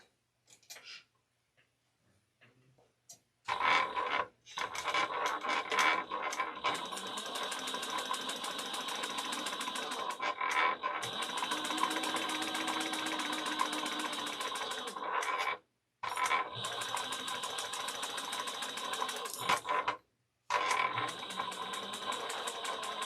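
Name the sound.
sewing machine basting fabric for a travel bag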